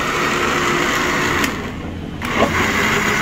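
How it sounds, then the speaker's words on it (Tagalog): A steady, loud mechanical whir of a kitchen blender running continuously on carrots and herbs, with a brief dip and surge in the motor's pitch partway through. "Balik tayo sa blender guys."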